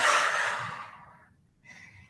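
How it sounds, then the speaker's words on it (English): Long, forceful exhale during a yoga session: a loud breathy whoosh that fades over about a second, followed after a short pause by a softer second breath. "Exhale, swoosh it out."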